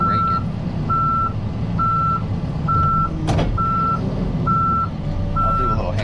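A machine reverses while back dragging gravel along a new road shoulder, its high steady backup beeper pulsing about once per second over a loud diesel rumble, with one sharp clank midway.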